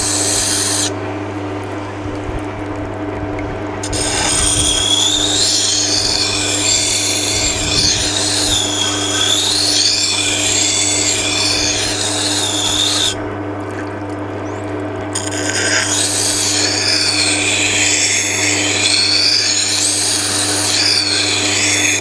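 A Scheppach Tiger 2500 wet grinder hums steadily with its water-fed stone turning, while a knife is held against the wheel for sharpening and a continuous, close, even grinding hiss comes and goes.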